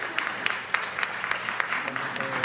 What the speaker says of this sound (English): Please give a round of applause to Naja Amatullah Hilton.